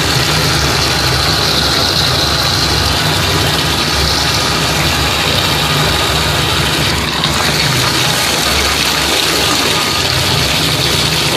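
An old, worn bathtub tap runs full, a loud, steady, close gushing roar of water filling the tub without pause or talking.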